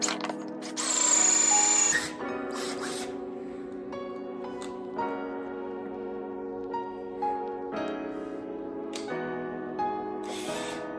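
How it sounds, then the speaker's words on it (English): A power drill boring a hole into the center of a part for a CO2 cannon build, a near whine that starts in a loud burst, then runs in repeated stepped bursts and pitch shifts. "Just drill that hole right into the center."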